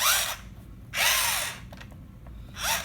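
Whirring motor bursts from the steering of a 2002 HPI Dash hobby-grade RC car, three short rising whines separated by quiet gaps, close and loud.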